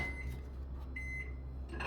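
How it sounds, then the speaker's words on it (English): A low steady hum of a microwave oven runs throughout, close and constant, with faint higher tones flickering over it. "We're popping this in the microwave."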